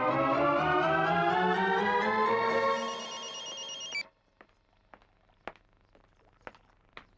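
A phone rings with a rising electronic tone for about four seconds, then stops, leaving quiet room noise with a few light taps and clicks.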